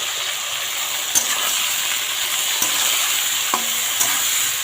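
Vegetables sizzle with salt and turmeric in a hot pan, a steady close frying hiss punctuated by a few sharp spatula scrapes and taps as they are stirred.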